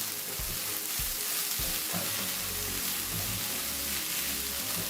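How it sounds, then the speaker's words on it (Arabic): Onions sauté in a hot pan for stuffed cabbage, with a loud, steady frying sizzle and hiss, broken now and then by the scrape of a stirring utensil. "هشوح كده في البصل لغايه لما يدبل"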